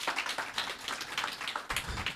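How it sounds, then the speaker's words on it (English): A round of applause at a city town hall meeting on open records: a short burst of brisk, fairly quiet clapping from a modest indoor audience, without talk. "can you give Attorney Moore a round of applause for her presentation?"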